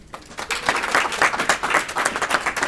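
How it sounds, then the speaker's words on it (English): A crowd applauds steadily, dense overlapping claps filling the room for a few seconds without a break. "Let's give it up for Ashley."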